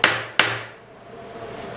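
A metal finishing hammer strikes sheet metal twice in quick succession, each hit a sharp, close, ringing clang whose tone hangs briefly before fading into quiet workshop air.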